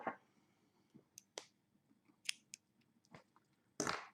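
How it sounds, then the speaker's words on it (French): Scissors snip crochet yarn during a crochet repair, a few faint, close, crisp cuts and clicks scattered over a quiet background. "Je vais couper mon fil"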